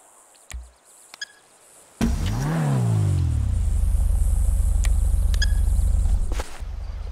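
A Karin Kuruma in GTA V cranks and fires up after a few faint clicks, its revs sweeping up and settling into a steady, loud idle rumble that continues until a drop near the end; no one speaks.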